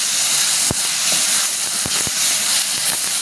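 Garlic and tomato puree sautéing in a pan give a loud, steady hiss and sizzle with a few sharp pops and crackles scattered through it.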